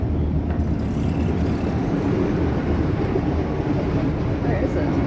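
Inside a first-class train carriage, a steady low rumble and rolling hum fill the space as the train moves. The drone stays constant and moderately loud throughout, with no breaks.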